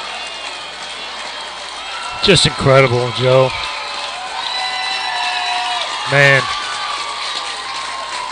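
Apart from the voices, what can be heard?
baseball crowd buzzing and cheering after a home run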